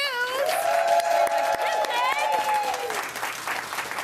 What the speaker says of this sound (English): We're all clapping for you, Chef.